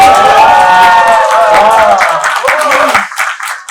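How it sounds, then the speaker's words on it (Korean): An audience claps loudly and continuously, with some cheering mixed in, then the applause tapers off at the end. "박수 한번 세게 한번 보내주세요"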